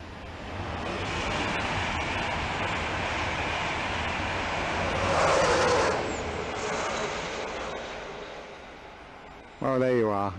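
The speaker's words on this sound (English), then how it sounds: "at least you've got one train going over" A train rumbles past on the East Coast Main Line near Little Bytham, a long steady broadband roar that surges around the middle and then fades, with a brief sharp tonal sound at the end.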